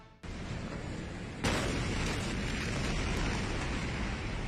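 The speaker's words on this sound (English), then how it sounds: "A giant cloud formed over Beirut after an enormous explosion, the most powerful in the Lebanese capital in years." A huge explosion of stored fireworks at the port of Beirut, Lebanon, roars as a dense, sustained rumble, with a second heavier blast surging in partway through and then holding at a loud, even level.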